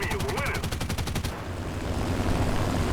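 An anti-aircraft gun fires in War Thunder, a rapid rhythmic burst of loud close shots for about a second, followed by a dense rumbling wash of battle noise.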